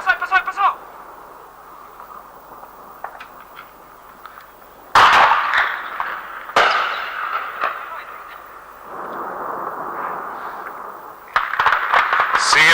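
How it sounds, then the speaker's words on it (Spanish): Archival war footage of bombs and exploding fuel at an airport during an air attack in the Malvinas conflict: sharp sudden blasts with long rumbling tails, several heavy booms spaced apart over a low continuous roar. "Siguen las explosiones en el aeropuerto que podrían ser originadas, además de las bombas, por los combustibles que explotan."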